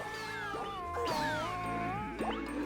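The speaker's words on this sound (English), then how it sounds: "Like that Siamese cat." A Siamese cat in a video game meows several times in a row, with long, clear, wavering cries sounding close and alone over a soft background.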